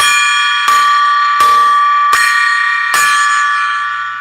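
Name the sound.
gong being rung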